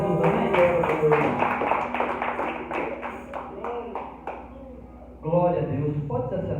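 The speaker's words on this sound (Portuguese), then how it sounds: "Palmas para Jesus, amém?" Rhythmic clapping from a church congregation for Jesus, steady claps mixed with voices and music, fading briefly before louder sound resumes.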